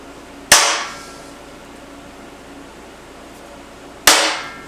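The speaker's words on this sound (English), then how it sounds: "Then we'll come back with the big punch" Two sharp metallic hammer blows on a big punch, marking drilling spots on metal plates during work on a YamBSAcki Scrambler 650 motorcycle build; loud, isolated strikes about three and a half seconds apart with ringing decay in a quiet workshop.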